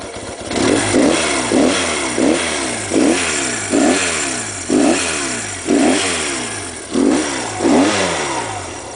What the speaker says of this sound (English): flip of the throttle.